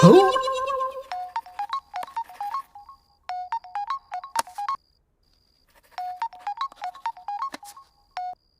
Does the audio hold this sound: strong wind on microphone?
no